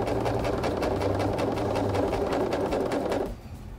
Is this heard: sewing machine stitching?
yes